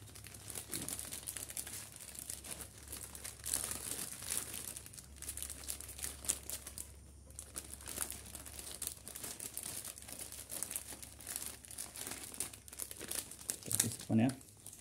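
Crinkly plastic is wrapped around a bougainvillea cutting secured with a rubber band, making close, repeated crumpling and rustling that rises and falls over fifteen seconds while a person talks quietly.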